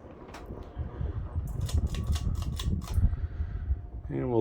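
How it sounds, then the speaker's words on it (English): A Sears Emerson 52-inch faux antique brass ceiling fan runs with a low whir under rapid rhythmic ticking and clicking, with a brief voice-like tone at the end. "this 52-inch faux antique brass Sears Emerson ceiling fan"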